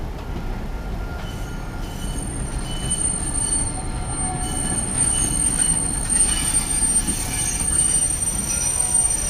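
A Tokyo tram passing nearby, with high, sustained wheel squeals over a continuous low rumble of rolling cars that swells toward the end.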